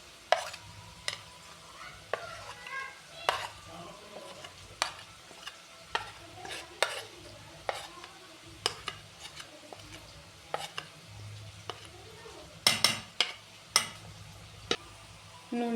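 Onions frying in a pan give off a soft, continuous sizzle, broken by sharp clicks and knocks from a spoon or utensil against the pan at irregular intervals.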